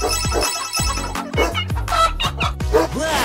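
Cartoon-style chicken clucks from a toy or animated egg zoo, several short bursts over jingly music and effects.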